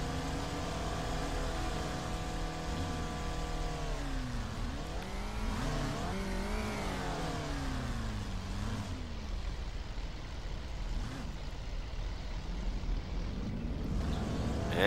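Spec Racer Ford race cars accelerate on the half-mile Bristol Speedway oval, their engines rising and falling in pitch as the pack passes, a steady loud roar with overlapping revving and Doppler sweeps.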